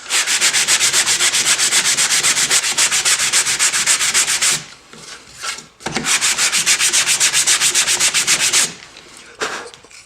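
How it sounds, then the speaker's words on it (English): Sandpaper rubs back and forth on a wooden bookmark in fast, rhythmic strokes, loud and close, with two brief pauses between bursts. "I'm going to finish sanding this"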